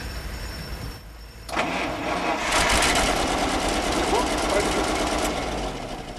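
A car engine cranks with the starter while fuel is fed, then catches and runs with a loud, steady roar that stays up for several seconds.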